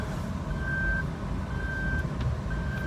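Seatbelt warning chime in a 2015 Suzuki Lapin: a steady high electronic tone repeating about once per second, clear over low engine and road hum inside the cabin.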